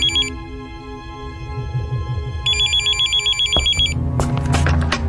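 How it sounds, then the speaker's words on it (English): An old-style telephone bell rings in two clear bursts over dramatic background music in a radio drama, a pause between rings before other sounds take over near the end. "the phone call."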